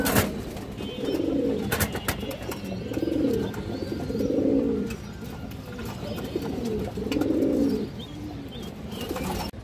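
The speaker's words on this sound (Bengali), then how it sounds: "এটা একটা সিলভার ব্রাডের মাদি কবুতর" A female pigeon of a silver breed gives repeated soft, low cooing phrases in a steady rhythm, close to the listener. Faint rustling and background noise sit underneath.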